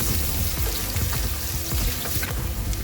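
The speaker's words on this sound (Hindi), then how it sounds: "मीडियम फ्लेम रखा है मैंने इसका, फ्राइंग कर रहे हैं अब हम इसकी" Onions frying in a pan over a medium flame for a khara masala keema, giving a steady, close, crackling sizzle with no talk.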